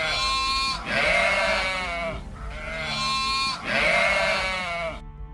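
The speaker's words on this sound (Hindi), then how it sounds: "अरे, ये भेड़ें अचानक चिल्ला क्यों रही हैं?" Sheep bleat loudly and close, two long quavering calls separated by a short pause, with other bleats overlapping in the background.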